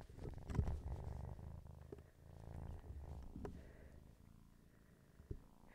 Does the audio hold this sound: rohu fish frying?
no